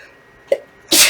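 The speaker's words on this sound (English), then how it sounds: "I have to sneeze." A single loud sneeze: a short sharp intake breath followed by an explosive burst, close up, with no talking.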